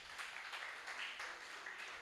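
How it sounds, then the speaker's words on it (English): Audience at an academic symposium on health care financing in Ghana applauding a professor; brief, faint, even clapping from a room of people, heard from a distance. "Let's clap for Prof properly."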